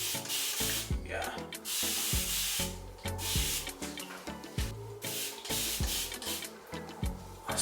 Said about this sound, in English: I spray my scalp sometimes just because it feels good